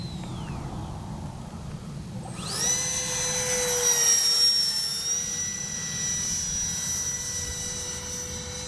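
A 3D-printed RC delta-wing fighter jet flies in to land, its turbine rising to a loud close whine and then holding a steady high-pitched roar over a rumbling outdoor background.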